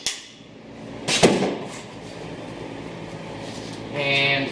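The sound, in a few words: loosening the ring gear side adjuster by a notch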